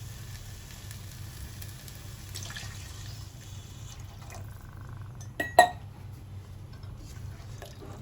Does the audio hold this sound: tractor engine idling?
no